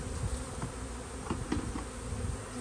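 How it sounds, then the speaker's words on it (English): Steady, dense buzzing from an open-air honey bee swarm settling near a hive, with a few louder passes of individual bees flying close over the constant drone. "You see that this group is really starting to go flighty like a swarm"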